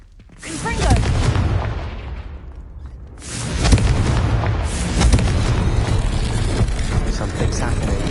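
Confringo blasting curse in Hogwarts Legacy, a loud booming explosion followed by a second heavy blast and rumbling debris, with a voice speaking over parts of it.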